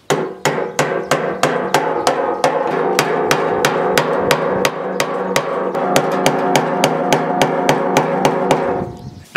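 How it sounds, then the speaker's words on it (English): Rapid, steady series of sharp metallic hammer taps on a fuel pump locking ring on a gas tank, close and loud, continuing evenly for several seconds before stopping. "we're going to take a hammer, we're going to tap that ring"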